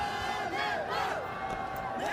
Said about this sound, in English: This crowd is just pushing this Nepal innings along.